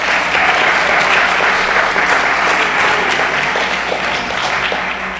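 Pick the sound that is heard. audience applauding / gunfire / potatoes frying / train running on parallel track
audience applauding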